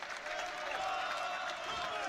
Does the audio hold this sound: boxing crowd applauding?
yes